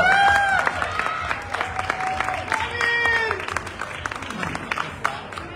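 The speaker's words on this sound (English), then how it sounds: "Round of applause, everyone." Audience applause at a press presentation for a male pageant, clapping under a resonant announcer voice and a tonal background, steady and moderately loud throughout.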